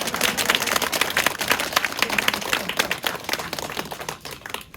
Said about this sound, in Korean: 박수 치려면 확실히 치시죠.